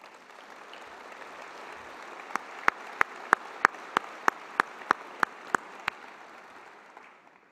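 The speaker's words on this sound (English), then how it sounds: "That's worth a round of applause." A university convocation audience applauds in a dense, moderately distant wash of clapping, with about a dozen loud, evenly spaced sharp claps standing out above it near the middle.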